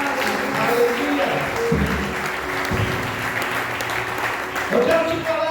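Church congregation applauding the Lord during a Portuguese-language sermon, a dense, steady wash of clapping for several seconds with a voice and possible music faintly underneath.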